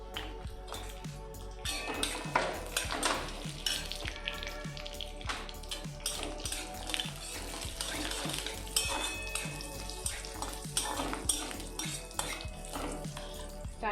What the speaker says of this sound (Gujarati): કાજુ સારી રીતે લાલ થઈ જાય ત્યાં લગીને શેકવાનું છે.